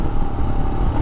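A 2023 Royal Enfield Himalayan motorcycle engine held at full throttle around 4,000 RPM, a loud, steady, close drone that holds level through the brief moment.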